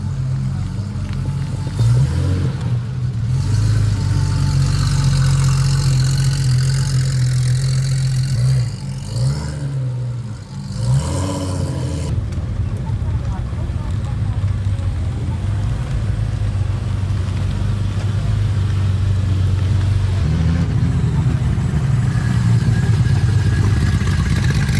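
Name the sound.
car driving into parking lot at Porsche car meet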